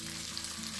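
Ingredients for pineapple fried rice sauté in a hot pan, giving a steady, close sizzle of frying with faint stirring and no talking.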